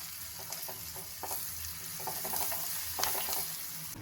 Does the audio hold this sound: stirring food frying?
yes